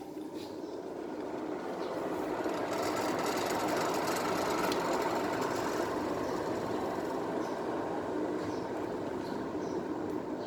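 A washing machine's spin-dryer motor runs in reverse, a unit with a humming fault that sometimes spins slowly. It gives a steady, close, continuous motor drone with a buzzing edge, alone and unchanging for the whole stretch.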